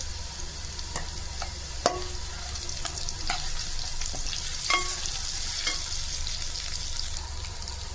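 Onions frying in oil until brown for chicken pulao give a continuous hissing sizzle, with scattered clicks and scrapes of a stirring spoon against the pot, close up and without speech.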